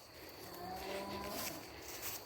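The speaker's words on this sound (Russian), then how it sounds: "Видите, уже корову мне загоняет." A cow moos once in a long, drawn-out call while being herded in a rural mountain setting, moderately close over outdoor ambience, with no talking.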